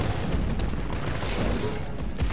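Dense, continuous pistol fire and booming grenade blasts from the survival horror game Resident Evil 3, loud and close, overlapping with no pauses.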